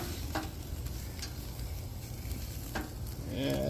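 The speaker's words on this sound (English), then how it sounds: "It's frying up pretty good here." Jalapeño poppers frying in a pan give a steady, close sizzle and crackle that runs the whole time, with a few brief clinks of a utensil stirring.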